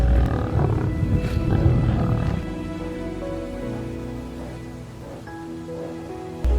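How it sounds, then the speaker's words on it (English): Loud territorial roars of big cats in the Okavango wilderness, deep and sustained, rolling heavily through the first seconds before easing into a lower, steady rumble with a faint rain-like hiss behind. "Each group has a large territory, marked by loud roars that can be heard for miles"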